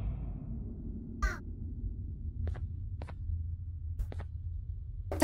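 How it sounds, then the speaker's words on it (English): Baby Opila birds in the video game Garten of Banban 2 give short harsh caw-like calls, spaced irregularly over a low steady game ambience rumble, with no talking. "look at the baby Opila birds."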